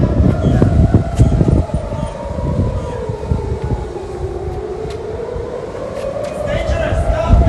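Wailing air raid sirens rise and fall continuously behind constant crowd noise and voices of people running in Israel, loud and close, with a rumbling background throughout.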